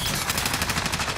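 Rapid automatic gunfire from a video game sounds in a fast, even burst of sharp repeated shots, loud and close, with no voices over it.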